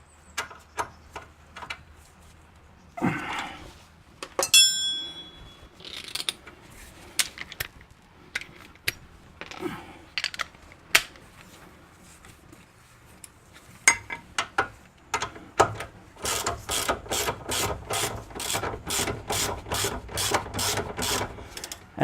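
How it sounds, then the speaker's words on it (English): A socket ratchet tightens a 17 mm nylon locking nut on a Ford Mondeo MK3 tie rod end, scattered clicks and metal clinks at first, then a steady run of rapid, evenly spaced ratcheting clicks close by. "Okay, a 17 with a nylon locking nut. Just put that on. Use a socket to do it up."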